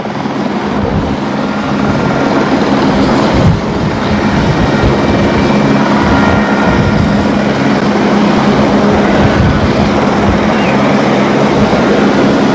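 A helicopter able to lift up to seven tonnes flies during a commando rescue exercise, its rotor and engine roar loud, close and continuous throughout, with no talk over it.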